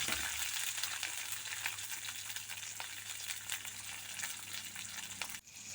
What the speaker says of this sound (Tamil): வெங்காயம், சின்ன வெங்காயம் அதை போட்டுக்கலாம். ஒரு வதக்கி எடுத்துடலாம்.